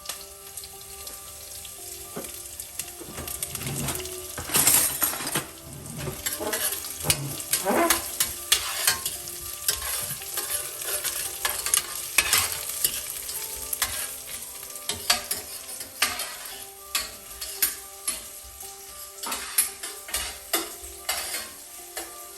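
Ginger and garlic sautéing in a pan for a Tamil-style mutton chops dish, giving a steady bright sizzle with frequent scraping stir strokes and a few clatters throughout, close and continuous.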